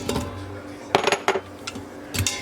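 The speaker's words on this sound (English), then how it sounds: "I've got a medium onion here that I'm going to dump in" A medium onion tumbles into an Instant Pot already slow-cooking Jiggs dinner, giving a few sharp clattering thuds against the metal pot, close and fairly loud, with no talking.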